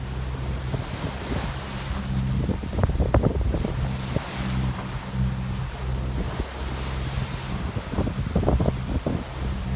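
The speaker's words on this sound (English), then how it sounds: "it's gonna be some hours of motor sailing before reaching our destination." Sailboat motor sailing in light wind at sea, with a steady low engine drone under broadband wind and water rush and irregular splashes of waves against the hull.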